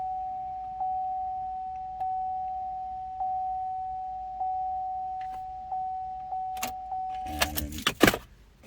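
A Subaru's ignition turned on with a newly programmed key: a steady electronic chime repeats evenly for about seven seconds, then brief clicks and a short rustle of keys close by, with no talk.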